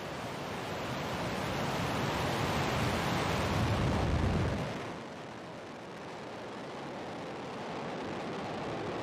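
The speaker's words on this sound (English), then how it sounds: "Liftoff of the Falcon 9" A SpaceX Falcon 9 rocket lifts off on the NROL-57 mission with a broad, distant roar that swells loudly, then eases to a steadier rumble with wind-like noise and no voices.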